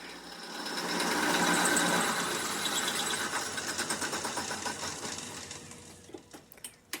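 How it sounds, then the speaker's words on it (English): Metal cutting machine mitering steel bicycle frame tubes for a front triangle in a framebuilding shop, a steady loud whirring grind that swells and then breaks into rapid chattering pulses before trailing off. "This is the same machine I'll use to cut the rest of the miters for the front triangle"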